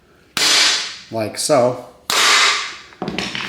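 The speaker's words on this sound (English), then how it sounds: "you can just hit it with a hammer and it'll come out the other side" A hammer strikes a bearing in a Land Rover LR3 transfer case to knock it out, two loud, sharp metallic blows with ringing tails, and someone speaks briefly between them.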